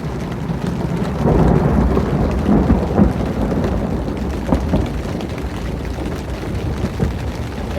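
Deep rolling rumble of a close thunderstorm at a tent campsite, swelling and fading over several seconds, with a steady hiss of rain underneath.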